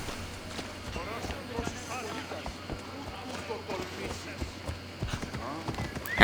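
Hooves of a horse in Assassin's Creed Odyssey clopping in a steady rhythm through the game world, moderately loud, mixed with ambient game sound and occasional talking.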